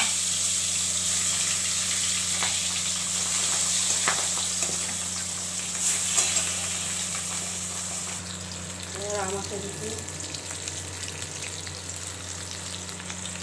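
Pabda fish frying in hot oil, a steady loud sizzle that runs unbroken throughout, with someone briefly talking over it and a faint trilling tone near the end.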